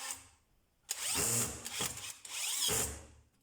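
A DeWalt DCD996N cordless drill driving a screw in two whirring bursts, the second cutting off as the clutch stops it, with a brief pause between and light scraping as the bit slips.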